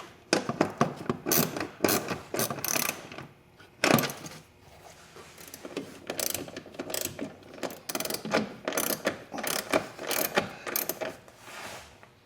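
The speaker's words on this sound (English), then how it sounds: "then you can put the wrench on and finish them off." A wrench ratchets self-tapping screws tight on a Can-Am Maverick UTV during an air intake install, giving up-close bursts of quick metallic clicks with short pauses between strokes.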